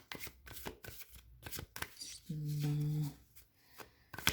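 Tarot cards being shuffled and pulled from the deck, a run of soft riffling slaps and flicks close by, with a brief tonal hum partway through and light talk around it.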